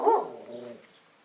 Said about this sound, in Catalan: Gos.